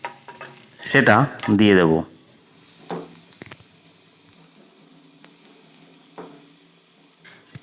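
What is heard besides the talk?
crushed garlic frying lightly in a pan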